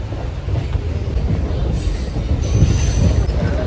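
A passenger train running from Tiruvannamalai to Pondicherry gives a steady, close rumble of wheels and carriage, with faint wheel squeal rising near the end. No voices are heard.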